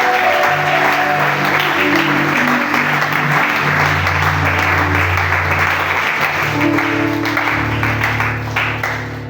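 A church congregation applauds steadily and loudly throughout, with sustained musical tones running beneath the clapping.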